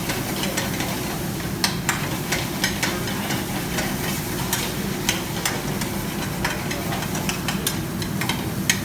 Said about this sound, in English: So just sauteing this down